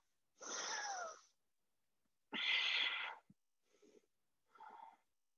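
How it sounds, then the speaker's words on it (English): Deep yoga breaths during a vinyasa flow: two long, breathy exhales followed by two shorter, fainter ones, close-up and airy with quiet pauses between them. "beautiful, full, deep breaths here."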